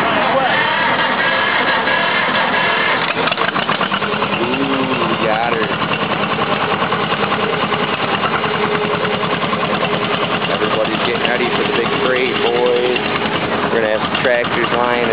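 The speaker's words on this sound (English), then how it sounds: "Tractors lining up." Old tractor engines idle together at a tractor and steam engine show, a dense, continuous mechanical chugging under steady crowd chatter and nearby voices.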